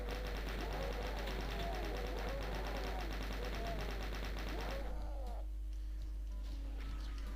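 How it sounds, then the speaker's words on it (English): Chain gun firing in The Ultimate DOOM, a rapid continuous rattle of shots over a dense game soundscape for about five seconds, then cutting off to quieter background hum. "There's so many moments where you can just use the chain gun and just slaughter so many different guys"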